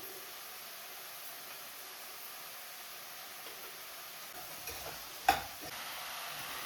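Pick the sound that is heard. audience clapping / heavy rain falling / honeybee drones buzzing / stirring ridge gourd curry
stirring ridge gourd curry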